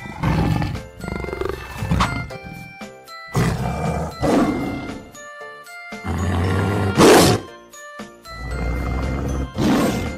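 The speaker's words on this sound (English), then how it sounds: "Tiger." A tiger roaring in a series of loud, rough, rumbling bursts separated by short pauses, close and powerful, with no talking.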